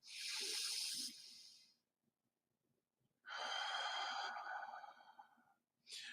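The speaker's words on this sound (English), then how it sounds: "take a few slow, deep breaths and breathe into the stomach" Slow, deep breaths drawn into the stomach: two long airy exhalations, close and soft, separated by a quiet pause, with a third breath starting at the end.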